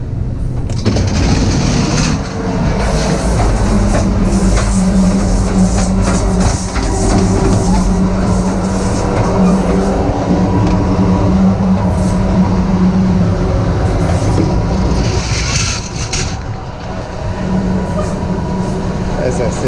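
Passenger train hauling auto carriers at the rear, heard from on board as a continuous loud rumble with rail clatter and occasional higher rattles and squeals running steadily throughout.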